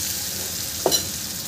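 Tomatoes cook in a pan with a steady, soft sizzle and frying hiss, broken once by a brief scrape or clink of a stirring spoon against the pan.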